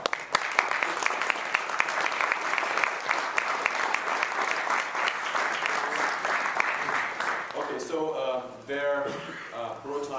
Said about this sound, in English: Please a little applause